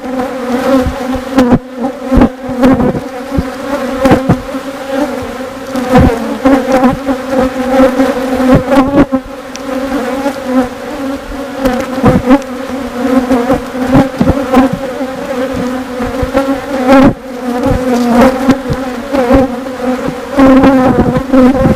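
A small honey bee colony hums with a loud, steady drone during an open hive inspection, close by, broken by occasional bumps and handling knocks.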